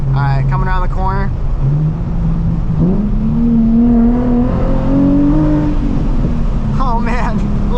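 A 2007 Nissan 350Z HR drives around a corner, its engine note rising and falling in pitch as it accelerates, loud inside the car with people talking over it.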